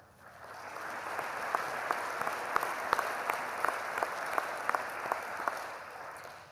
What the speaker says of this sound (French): ces mêmes applaudissements peuvent être répétés pour nos enseignants